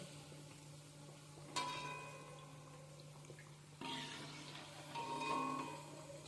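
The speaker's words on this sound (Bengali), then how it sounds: "আমি উল্টে পাল্টে এগুলোকে ভেজে নিচ্ছি" Palm fruit fritters (taler bora) fry in hot oil as they are turned, a steady soft bubbling hiss with faint crackles and a couple of brief clinks, fairly quiet and close.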